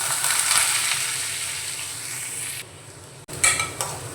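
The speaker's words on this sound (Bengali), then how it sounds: "ছোলার ডালটাকে একটু তেলের মধ্যে ভাজা ভাজা করে নিতে হবে" Chana dal sizzles in hot oil over a low-to-medium gas flame, a bright continuous frying hiss with a stir, a brief dip and a small utensil clatter partway through.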